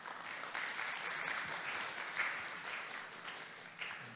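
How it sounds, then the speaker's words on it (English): An academic conference audience claps together in sustained applause after a speaker, swelling slightly and then tapering, heard at moderate distance with no speech. "please give a big applause to him"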